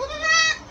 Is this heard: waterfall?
no